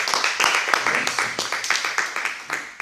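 A church congregation claps in a steady rhythmic beat, close and lively, with voices mixed faintly among the claps.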